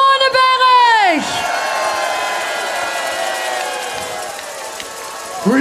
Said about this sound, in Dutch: Dames en heren, geef hem een groot applaus